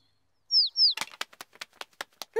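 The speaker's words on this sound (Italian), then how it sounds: "È un passerotto incuriosito dalla tenda di Pedro" In a Peppa Pig cartoon, a sparrow near a tent gives two quick, high chirps. A burst of rapid wing flapping follows, sounding as a series of sharp, close fluttering beats.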